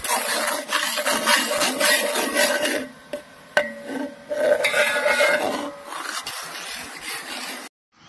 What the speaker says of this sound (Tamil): பால் நல்லா சுண்டுற வரையும் இப்படியே மிக்ஸ் பண்ணி விட்டுருங்க